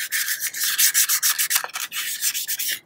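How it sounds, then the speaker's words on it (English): A wheel is sanded by hand with quick back-and-forth scratchy strokes, steady and close, with no voices. "by sanding them down a little bit more too by hand, it's going to make the coats go on a lot smoother"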